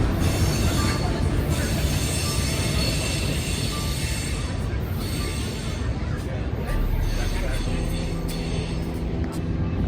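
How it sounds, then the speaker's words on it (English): A freight train rolls past in a steady heavy rumble with high metallic wheel squeal, near and loud, and a voice talks over it. "the meet that I had seen happening at Jack Stack was still happening with the third train entering the scene"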